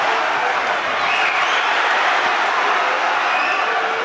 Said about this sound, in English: The crowd's applauded, they've gone mad.